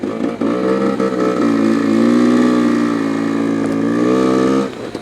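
A motorcycle or scooter with a modified exhaust idles close by, its crackly, punchy tone holding steady with a slight rise before dropping off near the end.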